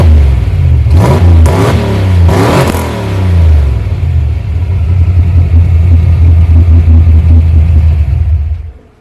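A turbocharged 331 stroker Fox-body Ford Mustang engine revs hard twice in quick succession, then settles into a deep, rumbling idle before cutting off.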